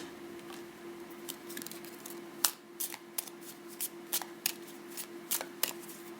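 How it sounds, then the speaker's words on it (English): Tarot cards being shuffled and pulled, a soft steady hiss broken by a series of sharp, crisp card snaps and flicks at irregular intervals, close and fairly quiet. "Let's go ahead and pull a few cards."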